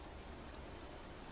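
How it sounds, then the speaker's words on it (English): Heavy rain pours down in the MotoGP 17 racing game, a dense, steady hiss of rainfall, faint and continuous with no talk. "It's absolutely pouring down, and the track conditions are going to force everyone to fit the rain tyres for this session."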